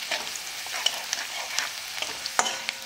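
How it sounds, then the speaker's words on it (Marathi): Garlic sautés in oil in a pan over medium heat, giving a soft steady sizzle with repeated light scraping stirs and occasional utensil taps, and no voices. "ही एक अर्धा मिनिट परतून घेऊया तेलात मीडियम गॅसवर।"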